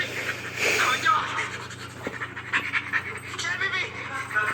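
A person imitates a panting dog with rapid breathy huffs in quick rhythm, mixed with scratchy noises, close and fairly loud.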